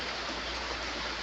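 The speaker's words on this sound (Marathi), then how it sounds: "हा अचानक अवकाळी मान्सूनपूर्व पाऊस चालू झाला आहे" Sudden pre-monsoon rain pours in the Konkan in May, a dense, steady hiss of falling water that stays even throughout with no voices.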